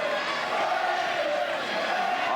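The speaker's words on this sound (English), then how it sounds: "Hartington crowd yelling out pressure." A Hartington crowd yells steadily at a 1987 girls' basketball district final as a Scotus player stands at the free-throw line, a dense wall of shouting voices that holds at a constant, loud level throughout.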